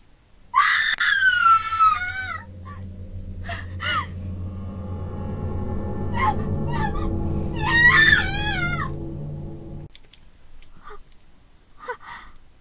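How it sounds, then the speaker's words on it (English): A girl in the horror video game Corpse Party: Book of Shadows lets out loud, shrill screams in two bursts over a low droning background, with gasping cries in between and a short sharp sound at the end. "Why was Emmy screaming?"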